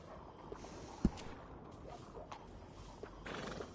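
A horse neighs and snorts amid soft hoof clops and mechanical clicks in Red Dead Redemption 2, with a louder whinny rising near the end.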